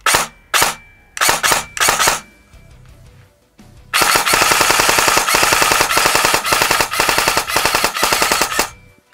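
A Zion Arms / R&D Precision PW9 Mod.1 airsoft gun firing close and loud: a few short bursts and single shots, a brief pause, then a long rapid full-automatic string lasting about five seconds.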